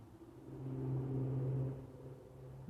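A car engine rumbles low and fairly faint as the vehicle starts off, swelling briefly then easing back in a steady hum with no voices.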